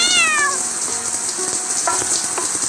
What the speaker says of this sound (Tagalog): Pusa nga.